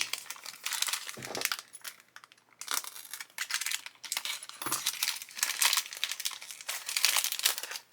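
Plastic packaging of a 1/12 scale car model kit is cut and pulled open close up, giving irregular bursts of crinkling and crackling with a couple of sharp snaps.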